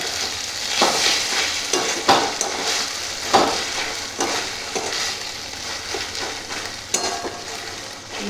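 Onion, tomato and ginger-garlic paste masala sizzles loudly in a pan, with repeated scraping stirs and spatula knocks on the metal over a constant frying hiss.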